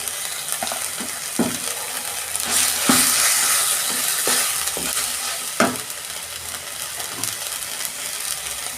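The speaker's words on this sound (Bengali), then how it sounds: "অল্প জল দিচ্ছি মশলাটা আমি কষে দিচ্ছি" A spice masala of turmeric, chilli, coriander and cumin powder with a little water sizzles steadily in a pan for chicken masala, with periodic scraping stirs and clinks of the spoon, close and fairly loud.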